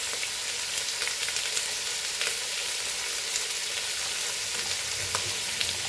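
Onion and chilies frying in a pan for Goan pork pulao, giving a steady, close, loud sizzle with faint crackles throughout and no voices.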